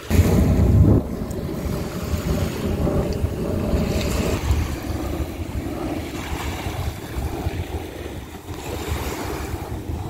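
Ocean waves wash against a beach under steady wind buffeting the microphone, a loud, continuous roar with a heavier gust at the start and no voices.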